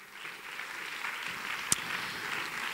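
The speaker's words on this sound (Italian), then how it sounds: "accogliamo con un grande, grandissimo applauso il presidente della giuria" Audience applause at the award ceremony of an international violin competition, a steady, fairly soft wash of clapping throughout with one sharp louder clap standing out near the end.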